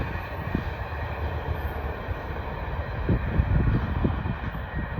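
A CSX freight train rumbles past a railroad crossing with a continuous low roar and irregular wheel thumps, growing slightly heavier toward the end.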